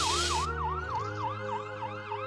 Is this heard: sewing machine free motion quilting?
no